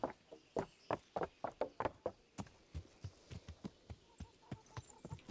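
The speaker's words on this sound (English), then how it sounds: "I'm just taking my horse for a walk." A horse walks at a slow pace in Kingdom Come: Deliverance, its hooves giving a steady series of sharp clip-clops, close and clear at first and then softer and more even.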